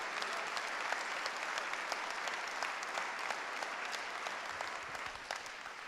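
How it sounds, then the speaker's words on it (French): Sustained applause from an audience at a municipal council installation session, steady and dense clapping throughout with no break. "Je demande de l'applaudir."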